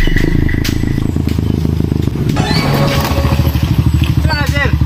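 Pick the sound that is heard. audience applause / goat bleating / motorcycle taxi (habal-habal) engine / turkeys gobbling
motorcycle taxi (habal-habal) engine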